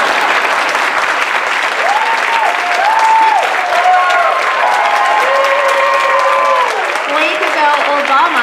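An audience at a 2008 National Book Awards finalists' reading breaks into steady, enthusiastic applause that fills the room for several seconds, while a voice speaks over the clapping.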